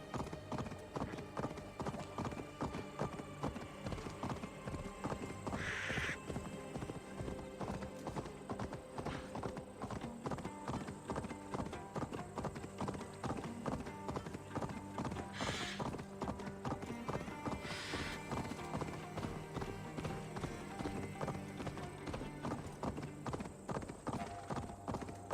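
A horse gallops steadily in Assassin's Creed Valhalla, with continuous rhythmic clip-clop hoofbeats throughout and a few brief whinnies and snorts over the pounding.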